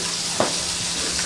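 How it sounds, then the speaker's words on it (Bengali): Snakehead fish fries in a pan while being turned, giving a brief, steady, even sizzle with one faint stirring tap. "নেড়ে ভেজে নিব।"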